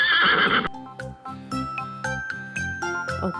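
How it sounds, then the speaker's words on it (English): A horse neighs loudly and shrilly for under a second, then a cheerful children's tune of bells and chimes plays on, with no voices. "This is a horse."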